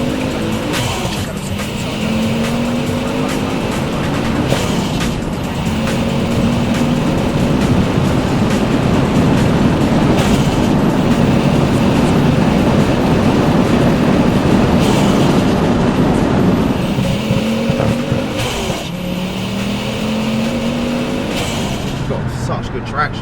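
A 520 hp Ford Focus RS Mk2 with a turbocharged five-cylinder engine accelerating hard at full throttle in second gear from 20 mph, a loud rising engine roar that climbs, drops at a shift and rises again, with people talking over it.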